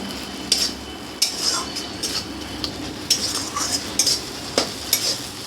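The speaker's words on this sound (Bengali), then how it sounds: "এই টমেটোটাকেও আমি ভালো করে নাড়াচাড়া করে মিশিয়ে নেব।" A utensil stirs chopped tomato into a spice mix in a pan, with repeated scraping strokes against the metal at an irregular rhythm over a soft, steady sizzle of frying.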